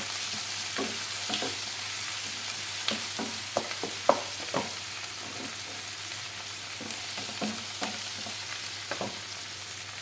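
Prawns frying with onions in a pan, with a low, even sizzle and scattered spatula scrapes and clicks against the metal. Audible stirring strokes recur throughout at close range over a faint hum.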